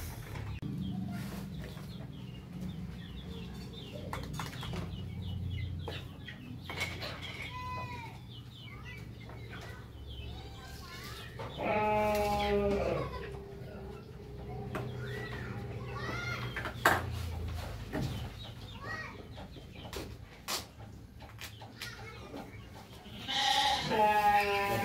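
Sheep on a farm bleat repeatedly, near and loud, over a steady ambient hum, with other livestock calls and bird sounds nearby and faint speech in the background.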